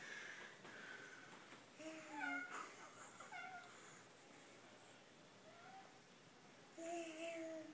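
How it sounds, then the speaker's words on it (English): A cat meows a few times, short mewing calls spread across several seconds, with a voice and adult talk around them in a home setting. "What does the kitty say? Meow."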